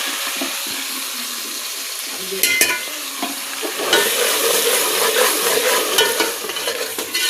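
Spices sizzle and fry with onion, tomato and ginger-garlic paste in a hot pan for a gosht curry, with occasional stirring scrapes and crackles, steady and close.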